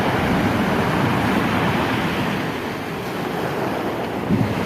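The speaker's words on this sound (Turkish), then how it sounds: "kuvvetli bir fırtına etti." Steady roaring wind from a strong storm buffets the microphone over continuous crashing surf on a sea shore, loud and unbroken throughout.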